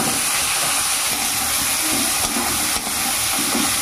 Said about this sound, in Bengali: এবার এগুলোকে তেলে একটু ভালো করে ভেজে নেবো।